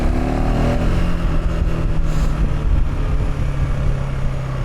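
A KTM 390 Adventure R motorcycle engine revs loudly and close, its rumble holding steady with a slight pitch shift early on and no pause over the whole stretch.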